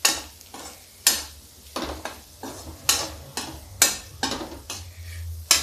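Turmeric powder being stirred into food in a kadhai whose flame is off, with repeated scraping strokes in an irregular rhythm, several sharp loud hits standing out over a low background hum.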